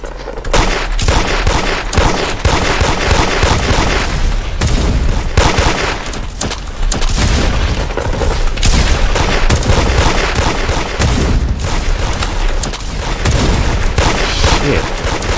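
Sustained enemy gunfire in a shooter video game, dense overlapping shots and bursts with booming impacts throughout, loud and continuous with only brief dips.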